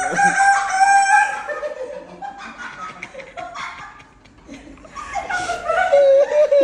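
Person imitating a rooster's crow with the voice, strained cock-a-doodle-doo calls at the start and again near the end, with laughter-like vocal sounds between, close and loud.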